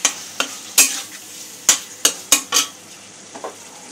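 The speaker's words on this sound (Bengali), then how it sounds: "একটু মিশিয়ে নেব সসটা।" A spoon scrapes and clinks against a hot pan as dark soy sauce is stirred into chicken jalfrezi, over a low steady sizzle, with uneven close knocks about every half second and no talking.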